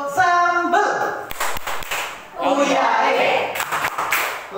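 A group of children clap out the rhythm of the Tepuk Sambal hand-clapping game in a classroom, with sharp claps bursting between sung and spoken chant lines.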